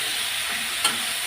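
Fish pieces with salt, turmeric and slit green chilies fry in hot oil, giving a steady close sizzle with one brief clatter partway through.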